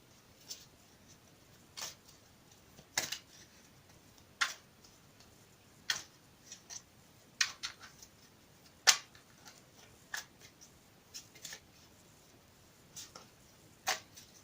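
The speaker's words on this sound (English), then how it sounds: "I'll shuffle them one more time on camera" Sparse, sharp card riffles and snaps in short bursts with quiet gaps between, close by, no talking.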